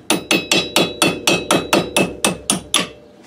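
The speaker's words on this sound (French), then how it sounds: "Là, je prends le tout petit marteau." Eleven sharp metallic taps from a very small hammer driving a brake pad retaining pin into place on a small licence-free microcar, evenly spaced and close, ringing briefly after each strike with no talk.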